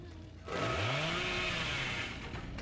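A chainsaw revs up in the video game Dead by Daylight, a close, loud, buzzing engine whine that kicks in suddenly, rises in pitch and holds steady for a couple of seconds.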